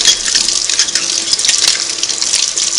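Sewing machine parts from a Singer 301A rinsed under a running tap, with a steady, bright hiss of water splashing close up and continuously.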